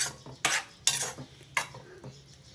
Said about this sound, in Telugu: పాలు పోసి ఒకసారి బాగా కలిపేసి మూత పెట్టి